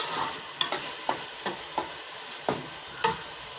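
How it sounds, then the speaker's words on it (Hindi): Lucknowi keema, minced meat with chopped spices, stir-fried in a pan, with about seven sharp spatula scrapes at an uneven rhythm over a soft, steady sizzle. The sound is close by and no one speaks. "कीमा हमारा बिल्कुल रेडी है। बस हमने इसको मज़ीद 1 मिनट के लिए भूनना है।"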